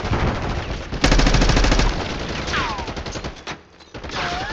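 Rapid video-game gunfire fills a tense firefight, bursts of automatic shots crackling loud and close with a heavy blast near the start and dense shooting throughout, no one speaking.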